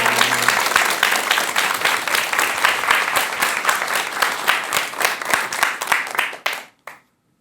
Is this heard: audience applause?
yes